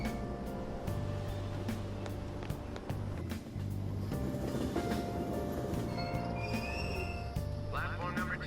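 Train station ambience from the Persona 5 Royal video game, with a steady low rumble of a train at the platform, layered hum and chatter, and faint chimes and squeals near the end, continuous throughout.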